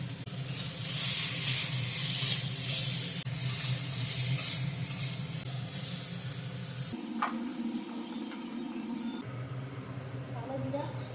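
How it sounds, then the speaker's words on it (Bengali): Potatoes fry in hot oil with salt and turmeric, giving a steady close-up sizzle that runs throughout while a voice talks over it. The sizzle drops to a softer level near the end. "এবার আমি আলুটা ভেজে নেব।"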